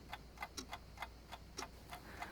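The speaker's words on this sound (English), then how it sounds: "When she hears the ticking" A clock ticks steadily and quietly, with sharp evenly spaced ticks about every third of a second and no other sounds.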